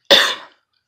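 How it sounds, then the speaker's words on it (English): A single sharp cough close by, loud at first and fading quickly into silence. "I'm coughing so much."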